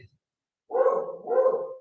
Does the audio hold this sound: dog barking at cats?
yes